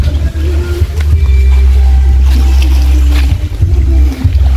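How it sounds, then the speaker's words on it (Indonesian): A tour boat's engine on Lake Toba near Samosir in North Sumatra, a steady low rumble that holds close and loud throughout, with faint water wash over it. "Nah, itu kapal kita, guys."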